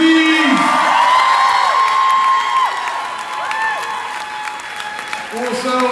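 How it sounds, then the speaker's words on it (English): A dinner audience at a charity event applauds and cheers, a steady wash of clapping with whoops and shouts, while a loud, distorted voice over a speaker system talks and calls out above the crowd. "Can you get a big round of applause for yourselves, please?"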